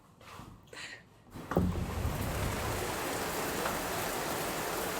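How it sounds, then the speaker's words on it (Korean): Heavy rain falls outdoors on Phi Phi Island in Thailand. A short stretch of quieter ambience and movement gives way to a loud, steady, dense hiss of downpour that continues to the end. "비가 오네요."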